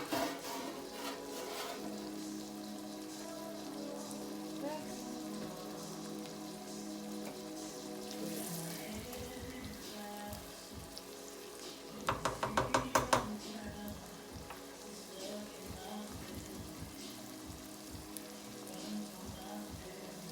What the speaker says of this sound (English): let this simmer down for 5 minutes